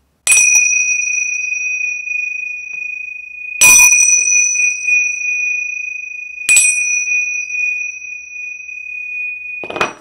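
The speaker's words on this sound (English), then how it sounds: "I am just going to ring these bells to cleanse the energy" Three bright metal bells strike in turn, each ringing out with a long sustained tone, loud and close with clean decays between strikes in an otherwise quiet room.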